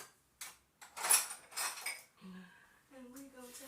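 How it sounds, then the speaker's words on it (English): A kitchen drawer is rummaged for a spoon, with a few metallic cutlery clinks and rattles, then bright ringing taps near the end, close and fairly quiet. "Let me get a spoon."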